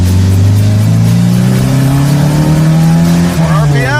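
A 1969 Ford Mustang Mach 1 engine revving loudly up close, with a rising, rough exhaust roar fitted with a sport-bike muffler tip, climbing steadily in pitch before easing off near the end.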